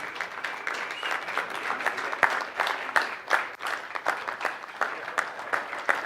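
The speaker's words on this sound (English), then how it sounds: "Go ahead and cheer as you see your group." An audience at a business boot camp event claps and cheers, a dense, close round of applause with irregular sharp claps standing out throughout.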